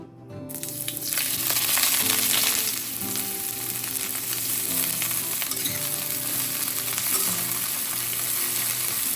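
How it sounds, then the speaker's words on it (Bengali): Onions fry in a pan for a fish curry, a loud, dense sizzle that starts abruptly and then holds steady and close throughout, with no voices over it. "এখানে মাছের ঝোলের জন্য কিছুটা পেঁয়াজ ভাজতে দিয়েছিলাম"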